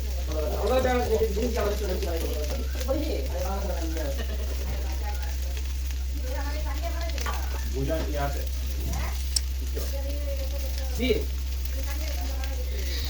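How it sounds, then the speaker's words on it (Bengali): Potato pieces fry in a pan for a potato and lentil fritter dish, giving a continuous close sizzle with occasional stirring, while someone talks over it throughout. "দেখেন ভাজা হয়ে যাচ্ছে খুব সুন্দরভাবে আলুগুলো"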